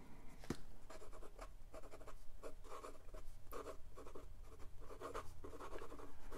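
Lamy Safari fountain pen with a stub nib scratching across paper in quiet, continuous strokes, close up and faint, with no talking.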